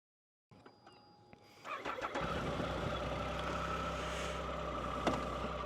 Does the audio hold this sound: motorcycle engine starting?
yes